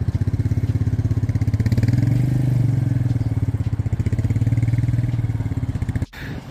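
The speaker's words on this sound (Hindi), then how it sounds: "अब जो है मोटरसाइकिल चढ़ गई है इसके ऊपर।" A motorcycle engine runs at a steady, throbbing idle close by, swelling briefly as the bike is ridden up onto a stand fitted with old-season tyres, then cutting off abruptly near the end.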